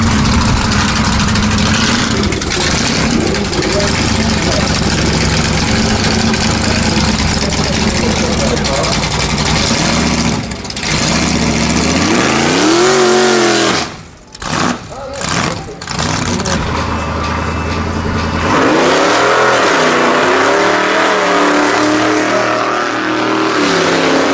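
Chevrolet Bel Air making a no-prep quarter-mile drag run at Manston Raceway, its engine roaring loud and steady with a brief dip and rise in pitch as it shifts, while a commentator talks over it throughout.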